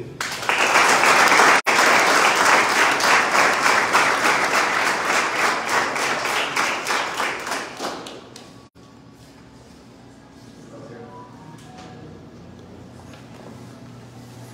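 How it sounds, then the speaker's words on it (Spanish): A crowd at a 25th-anniversary celebration for the Red Cross delegation in Pitiquito bursts into loud applause that turns into rhythmic, unified clapping, then fades after about eight seconds into quiet room murmur. "Un fuerte aplauso para todos ellos."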